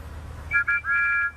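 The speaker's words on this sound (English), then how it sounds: "Together, Thomas and Percy happily tooted their best friend's whistle." Tomy toy train engines sound a bright two-tone whistle in three short toots, the last one held longest, close and clear over a low background rumble.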